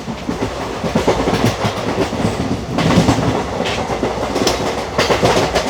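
A freight train rolls past a moving Kannur Bengaluru Express carriage, its wagons sending steady clickety-clack rhythm and rumble close by for several seconds, with no voices.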